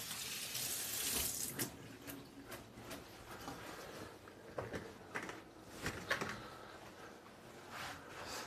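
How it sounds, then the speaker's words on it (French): Fingers rinsed under a kitchen tap, a soft continuous stream of running water with scattered small splashes and drips, quiet and close with no voices. "On va se laver juste se rincer les doigts."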